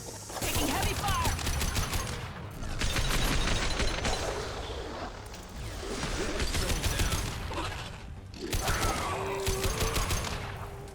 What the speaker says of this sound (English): Trouble ahead! Taking heavy fire!